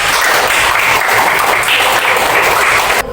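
Students in a classroom clap together for about three seconds, a steady, fairly loud patter that stops abruptly near the end.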